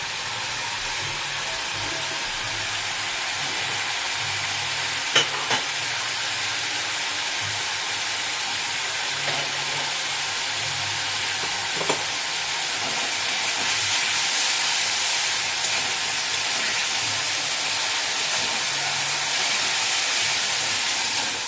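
Matar dal poured into oil-released, sizzling spice masala produces a steady, loud hiss and sizzle that continues without a break, intensifying slightly toward the end, with no voices.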